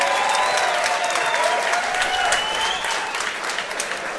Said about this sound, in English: How about a big round of applause for our two fighters?